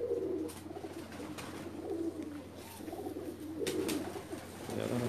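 Pigeons cooing in a loft in Jeddah, repeated soft low throaty coos in uneven bursts close by, with faint rustling and background noise between calls.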